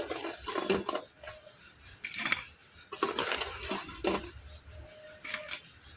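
Crispy fried snacks crunch and rattle in irregular bursts, with dry crackling clusters of brittle pieces separated by short quiet gaps, fairly close and clear.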